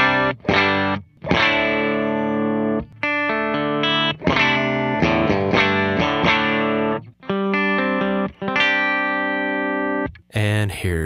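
An electric guitar runs through a compressor with no drive pedals engaged, playing sustained chords and single notes in several phrases with brief gaps between them. The tone is close and upfront, with a slightly effected edge.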